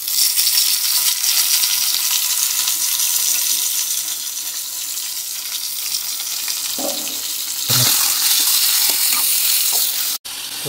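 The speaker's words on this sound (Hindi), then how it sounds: "प्याज भी हो चुका है, अभी मैं डाल लूँगा सूर का मीट।" Pork pieces dropped into a pan of cooked onions for a Chakma-style pork and taro dish, giving a steady loud sizzle with stirring scrapes and a burst of frying noise partway through.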